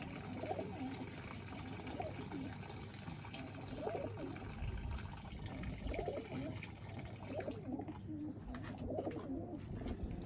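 Racing pigeons in a family loft coo in repeated soft, rolling phrases, several birds overlapping at close range, with faint water sounds beneath.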